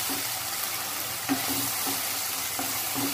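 Onion and tomato sautéing in a pan for an egg curry, a loud continuous sizzle filling the clip with occasional spoon strokes stirring through it, close and steady.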